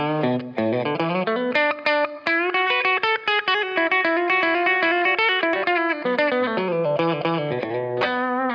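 An Epiphone Les Paul Junior with P90 pickup plays through a Blackstar EL34 valve amp on a clean warm setting with a touch of reverb, sounding as a continuous run of picked chords and single notes, with no talk.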